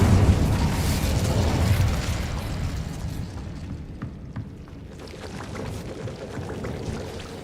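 A fire spell cast in a wizarding video game: a loud, rushing whoosh of flame roars up, then thins into a crackling, hissing burn that fades and lingers.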